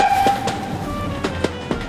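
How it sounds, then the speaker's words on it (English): A model train runs over track points, giving a steady running rumble with a few distinct clicks as the wheels cross the switch, close and fairly loud with no talking. "let's see the train drive over the points. Here comes the train."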